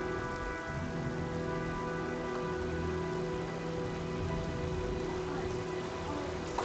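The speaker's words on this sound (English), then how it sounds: "Well, looks like a storm's coming." Steady rain from an approaching storm in the video game Heavy Rain, a constant dense hiss with a faint low rumble, moderate and even throughout, with no talking.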